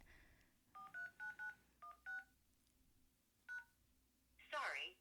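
Telephone keypad dialing tones beep one after another, a quick series of distinct touch-tone presses with short pauses between, clear and close in a quiet room, followed by a brief burst of another sound at the end.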